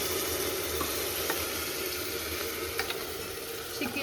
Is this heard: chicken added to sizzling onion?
yes